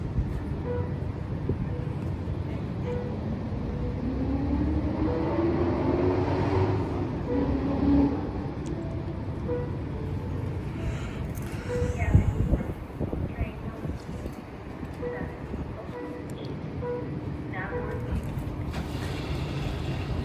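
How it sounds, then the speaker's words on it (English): Amtrak Capitol Corridor train 748 pulls away from the Oakland Coliseum station with a steady rumbling roll, a bright horn-like tone rising near the middle and a louder clunk later, while people talk over it. "this is Amtrak 748 highballing out of the Oakland Coliseum Station"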